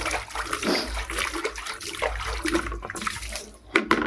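Water splashes and trickles as a broken bucket is washed out, a loud, close, continuous sloshing with a few sharper splashes toward the end.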